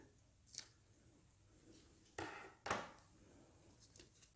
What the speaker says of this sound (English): you're going to use your scissors and chop off that end.